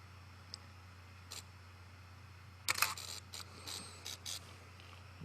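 A few small mechanical clicks and whirring ticks from a Canon EF 22-55mm f/4-5.6 USM lens, faint at first then a quick cluster of sharper clicks over a low steady hum.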